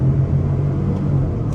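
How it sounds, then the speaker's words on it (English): A 2024 Ford Expedition Max XLT pulling hard off the line, a deep steady engine rumble and drone heard from inside the cabin, brief and continuous without speech. "We'll be able to try out an acceleration off the line right over here on the gas."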